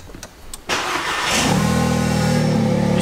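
An Audi A3/S3 or VW Golf R/GTI engine cranks and fires up after a few faint clicks, catching with a surge that settles into a steady, close, loud idle hum.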